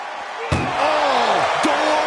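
An ambulance door slams hard into a wrestler's face at a WWE event, one sharp loud bang and then a second thud, with a sweeping siren-like tone and faint crowd behind.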